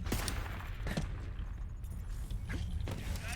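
Legendary gun in the Borderlands 3 video game, with a few sharp broadband bursts and mechanical clacks around a reload and a steady low hum underneath. No one speaks.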